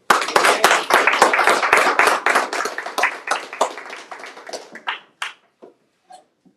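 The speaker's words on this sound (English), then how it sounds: "Let's give a warm round of applause for Shannon." A crowd applauds with dense, steady clapping that thins out and fades to a few scattered claps before ending.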